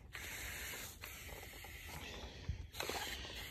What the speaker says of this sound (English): see how it's spraying right on the tomato